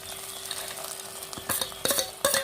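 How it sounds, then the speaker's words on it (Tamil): Soft scraping and stirring of moong dal payasam in a pan, with a few louder clinks of a spoon against metal toward the end, over a faint steady hum. "இப்போ நல்லா கலக்கி எடுத்துடலாம்"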